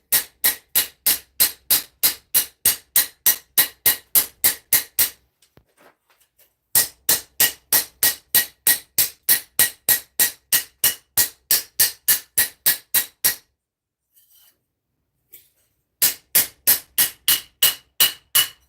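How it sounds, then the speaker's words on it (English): A steel Japanese santoku kitchen knife blade is hammered to remove grind marks, in three long runs of rapid, evenly spaced ringing metal strikes separated by short pauses, close and loud with no talking. "So the reason I'm actually hammering it is to remove the grind marks that I just put in."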